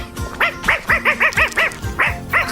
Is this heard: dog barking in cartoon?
yes